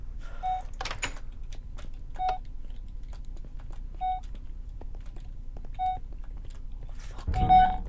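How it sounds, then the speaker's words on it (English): An alien tracker device in a Minecraft adventure map gives a regular, evenly spaced series of short electronic beeps, about five in all, each about two seconds apart, over a quiet low hum with a few clicks and a rustly burst. "Oh my God, this thing is beeping mad."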